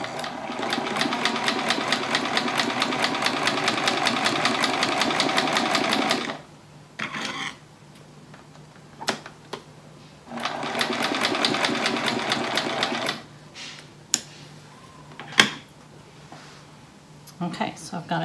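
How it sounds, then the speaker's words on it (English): A sewing machine stitches a quilt triangle with a quarter-inch seam in two loud, rapid, even bursts of several seconds each, split by quiet pauses filled with small clicks and handling sounds. "I'm going to sew this triangle on 1/4 inch again"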